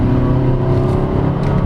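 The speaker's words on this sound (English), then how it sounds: "And watch overtaking." A 2022 Honda HR-V S base-variant crossover accelerates steadily to overtake, with a loud, constant engine drone and road noise from inside the cabin and no voices.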